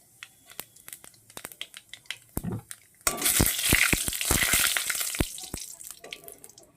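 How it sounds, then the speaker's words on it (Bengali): Black cumin seeds drop into hot oil left from frying tengra fish, setting off a sudden loud, close sizzle that holds steadily, after a few soft clicks and taps beforehand. "ওই মাছ ভাজা তেলে এবার আমি দিয়ে দেব কিছুটা কালো জিরে ফোড়ন"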